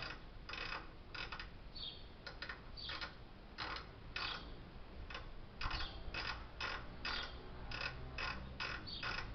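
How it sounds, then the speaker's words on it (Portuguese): A micrometer thimble is turned by its small ratchet while measuring engine cylinders, giving a quiet run of irregular ratcheting clicks and ticks up close. "E vou girando o tambor do meu micrômetro, sempre aqui pela catraca."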